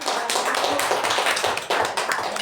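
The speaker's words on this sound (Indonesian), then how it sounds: "Kita berikan tepuk tangan" Seminar audience applauds, a dense, steady wash of many hands clapping at once, loud and close, with no talk over it.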